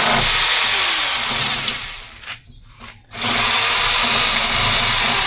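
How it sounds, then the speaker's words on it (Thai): A loud power drill, a plain drill without hammer action, whines continuously up close, briefly cutting out for about a second before spinning back up to full speed. "มันเป็นสว่านเจาะเลยมันไม่ได้กระแทก"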